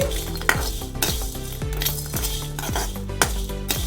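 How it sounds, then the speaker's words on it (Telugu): Dried coconut and coriander seeds dry roast in a kadai, with a rhythmic series of close metal spatula scrapes and stirs over a soft rattling crackle. "ఇప్పుడు ఇవన్నీ వేయించుకుందాం పొడిలాగా వేయించుకుందాము చూసారా ఇలా వేయించుకోవాలి"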